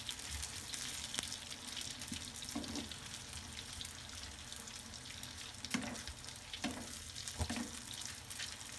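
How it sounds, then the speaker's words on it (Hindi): Thin slices of vinegar-marinated beef fry in a small frying pan with a faint, continuous sizzle, broken by a few soft stirring knocks and clicks. "और ये बिल्कुल गोश्त के पतले पतले स्लाइस, इसीलिए ये जल्दी ही फ्राई हो जाएगा।"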